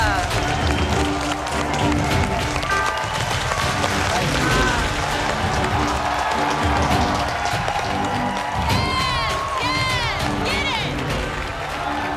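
Returning MasterChef contestants cheer, whoop and applaud in a studio kitchen, a dense continuous roar of clapping and shouts held at steady volume throughout, with talk mixed in.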